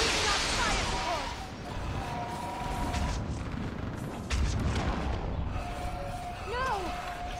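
Fire-support gunfire and explosions thud and crack through a Mass Effect 3 battle, heavy impacts and booms mixed with whining alien tones and shouted voices over a constant rumble.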